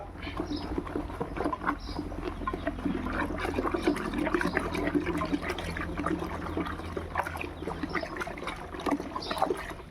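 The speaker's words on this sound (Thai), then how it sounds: "ไม้กวน กวนเข้าไป ให้เข้ากันสักหน่อย กวนเข้ากันนะคร" A wooden stick stirs a fermenting Bacillus subtilis liquid, giving soft sloshing, trickling and pattering water sounds that continue steadily at close range without any talk.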